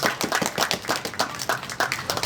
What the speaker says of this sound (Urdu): زوردار تالیاں ہو جائیں